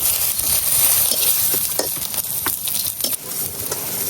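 Chepa shutki, fermented dried fish, fries in a pan with a steady close sizzle, broken by a few sharp scraping stirs and clicks throughout.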